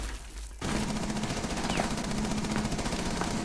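Distant rapid gunfire in a Rainbow Six Siege multiplayer match, a steady muffled rattle that begins abruptly and continues for about three seconds under faint background tones, with no one speaking.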